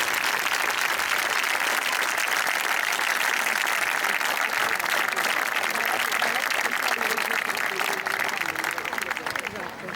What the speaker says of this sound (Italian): Penso che meritino un grande applauso.